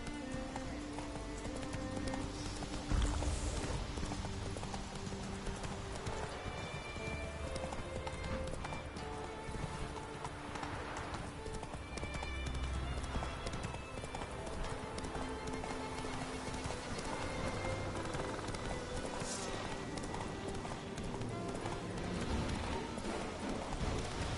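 Hooves of the horse Roach galloping in the video game Witcher 3, a steady rapid clip-clop running continuously under a dense bed of game music and ambience.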